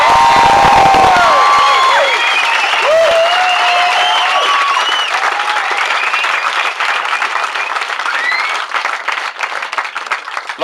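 Wedding guests at an evening reception break into loud, sustained applause with cheers and whoops, filling the room for about ten seconds before thinning slightly toward the end.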